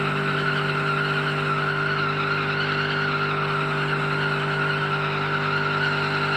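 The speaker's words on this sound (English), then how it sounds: "Second gear, freaking burnout" Car doing a second-gear burnout in the BeamNG driving game, a loud sustained engine drone with steady tire screech, unbroken and close for the whole stretch.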